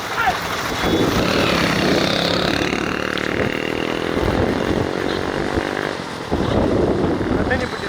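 A motorcycle engine revs and drones loudly nearby during a motorcycle race in Chinnamanur, Theni district, pitch rising and shifting, with excited voices talking over it.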